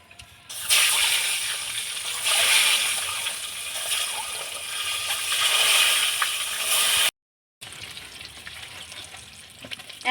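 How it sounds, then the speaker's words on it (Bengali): Eggs sizzle and fry in hot mustard oil seasoned with turmeric, a loud, steady crackling hiss that runs for several seconds, breaks off briefly, then resumes more quietly. "এখন ডিমগুলো ভেজে নেব।"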